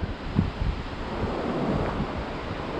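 Steady rushing wash of a river flowing beside a road on a cycling route between Puerto Maldonado and Puno, broad and continuous with some wind noise, no talking.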